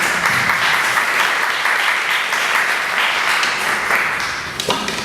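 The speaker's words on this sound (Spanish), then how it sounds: "Creo que merece un aplauso, Gildalina." Steady applause from a panel audience fills the room, continuous and fairly loud before tapering slightly at the end.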